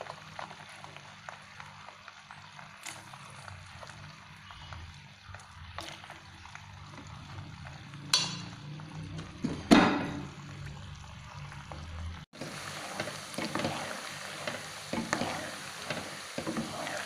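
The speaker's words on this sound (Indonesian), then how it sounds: "panaskan minyak ya, kita mulai goreng ya" Cassava with garlic and seaweed sizzles and crackles in hot oil over medium heat. The frying is soft and steady, broken by a few sharper pops and clatters, and it gets a little louder near the end.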